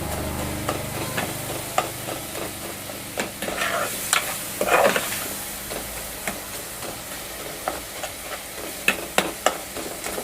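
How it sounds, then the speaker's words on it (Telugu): Tomatoes being mashed as they fry in oil in a pan, a steady close sizzle broken by repeated scraping and pressing knocks from a spoon, with no talking. "ఇలా చిద్మేసుకుంటున్నాను టమాటాలని"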